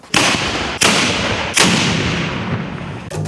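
Cossack cannons fire in a historical reenactment, three sharp booming shots about a second apart followed by a fourth, loud and close with reverberant tails.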